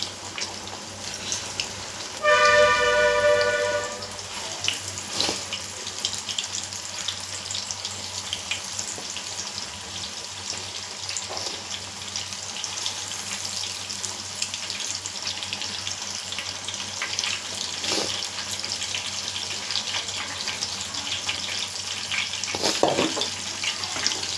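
Fritters deep-fry in hot oil, giving a steady soft hiss and crackle close by, with a brief louder clatter near the start and occasional small pops.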